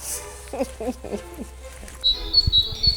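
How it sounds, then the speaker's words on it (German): Birds chirp on a hike near Hainburg an der Donau, with a few soft calls early and then a high repeated twittering toward the end, fairly near, over faint outdoor ambience and low rustling. "Die Vögel hört man zwitschern."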